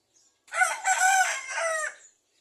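A rooster crows loudly and close by at a chicken farm, one long cock-a-doodle-doo lasting about a second and a half, with other chickens faintly audible around it.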